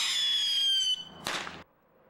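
An M80 firework taped to a pig's foot goes off after a hissing fuse, giving one sharp, loud bang that quickly fades, with no talking.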